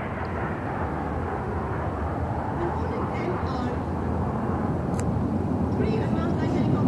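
Aircraft flying in formation over Rajpath during India's Republic Day parade 2021 produce a loud, continuous engine roar that builds slightly toward the end, with a voice talking underneath.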